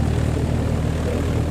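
Propeller aircraft taxiing close by at an air show, a loud steady engine drone with a throbbing low hum holding level throughout, no voices.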